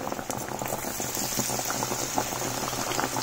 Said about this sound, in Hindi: गोल्डन ब्राउन होने तक हम फ्राई कर लेंगे